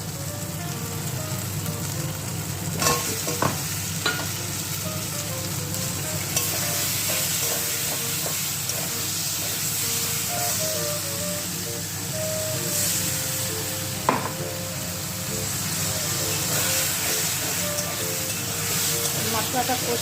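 Potatoes fry in oil with spice masala, making a loud, constant sizzling hiss throughout, punctuated by occasional clinks and scrapes of a utensil stirring in the pan.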